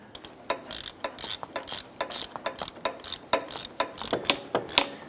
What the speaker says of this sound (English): I'm going to go ahead and put my socket and ratchet on those there and try and snug those down